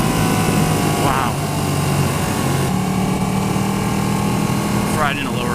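A Ducati 1299 Panigale S motorcycle engine drones steadily while riding, with changing pitch as the revs shift, loud and close with wind noise mixed in.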